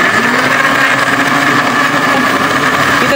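An electric blender grinds garlic and ginger for dhal curry, a loud, steady motor whir that holds constant without pause from start to finish.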